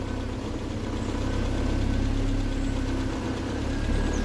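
Triumph Spitfire classic car engine fitted with electronic ignition, warmed up and idling smoothly, a steady low rumble with even rhythm throughout, close and continuous with no talking.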